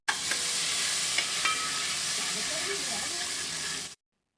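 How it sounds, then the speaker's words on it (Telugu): Mint leaves fry in hot oil in a biryani pot, giving a loud, continuous close sizzle with a few stirring scrapes and crackles before cutting off abruptly. "కొద్దిగా పుదీనా వేసుకొని వేయించుకుందాము"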